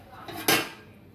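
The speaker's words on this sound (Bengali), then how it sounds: "এবার আমি আবার এটাকে ঢেকে দেব" A lid is set onto a cooking pot of banana flower curry with coconut, one short close metallic clank with a brief ring against quiet kitchen background.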